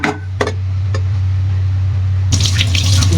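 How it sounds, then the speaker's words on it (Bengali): Dried fish is rinsed by hand under a running tap, the water stream pouring steadily with a few splashes and clatters early on and louder splashing near the end, close and clear with no talk. "ধুয়ে নিচ্ছি এগুলোকে সুন্দর করে, আঁশগুলো ছাড়া নিচ্ছি"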